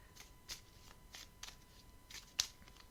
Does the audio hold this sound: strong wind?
no